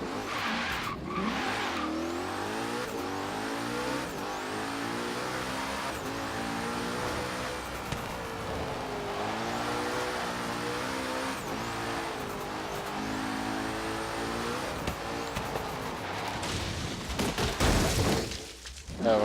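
A 1400-horsepower Hoonigan car in Forza Horizon 3, its engine revving loudly and rising and falling through gears under repeated tire squeal and skidding, ending in a rough burst.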